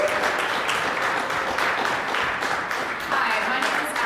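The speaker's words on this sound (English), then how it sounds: "let's give one more round of applause for TJ" An audience at a University of Arkansas lecture applauds, a dense, steady wash of many hands clapping that holds at an even level for about four seconds.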